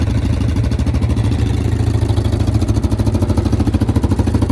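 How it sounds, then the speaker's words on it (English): A 2026 Yamaha Viking UTV idles loudly and steadily in a shop, with a rapid, even throbbing pulse and a rattly exhaust note from an exhaust leak, running continuously up close. "My exhaust is blowing right out too."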